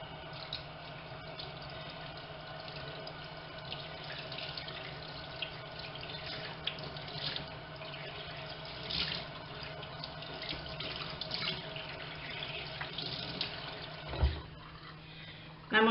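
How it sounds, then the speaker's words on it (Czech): Cold water runs steadily from a kitchen tap to wet a cloth, a constant close splashing hiss for most of the time, ending in a brief clatter. "Namočit utěrku do studené vody."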